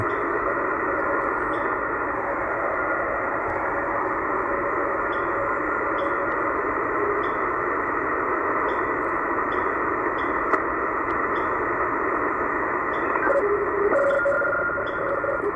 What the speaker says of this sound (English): So 5304, some sort of radio teletype signal.